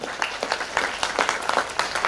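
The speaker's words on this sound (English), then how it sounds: "big round of applause for all these dignitaries" An audience at a brand launch event applauds, many hands clapping in a dense, steady patter, fairly loud and continuous throughout.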